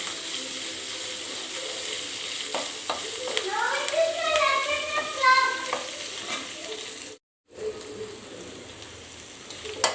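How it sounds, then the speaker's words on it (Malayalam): Ginger and garlic fry in a pan for lemon rice, a steady close sizzle with spoon stirring and squeaky scraping, cut by a brief silent gap before the frying resumes; no talking. "അതൊന്ന് ഫ്രൈ ആയി കഴിയുന്നുണ്ട്."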